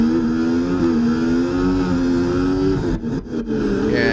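An F1 race car on Circuit of the Americas in EA Sports F1 holds a loud, steady engine whine, then the pitch drops and stutters as it brakes hard near the end.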